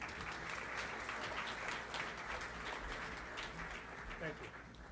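Steady, dense applause from an audience honoring award recipients at a beautification conference, continuous and full for several seconds, fading slightly toward the end.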